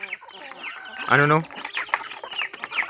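A mother hen clucks near a brood of nine chicks in a farmyard, with one loud clucking call in the middle among softer chatter and peeps. A person speaks briefly.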